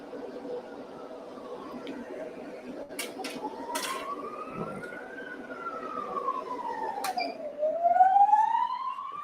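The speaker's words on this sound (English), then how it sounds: "Sounds like an ambulance going by." An ambulance siren passes near a hospital, its wail sweeping up and down and swelling louder toward the end over a steady background rumble of rain and a running welder.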